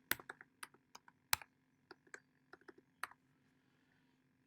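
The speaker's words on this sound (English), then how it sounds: "type in your username and then your password" A username and password being typed on a computer keyboard: sparse, separate key clicks with uneven gaps and two louder strikes, close and clear in a quiet room before it falls silent.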